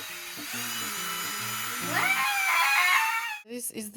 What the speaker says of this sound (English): Can I have that drill, please?